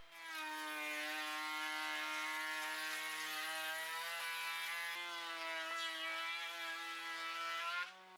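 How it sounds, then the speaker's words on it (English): A Dewalt 2 1/4 HP router cuts softwood with a steady, loud high-pitched whine that holds for several seconds, shifts slightly under load midway, then winds down at the end. "I'm going to run the softwood through it. And then we use the Dewalt."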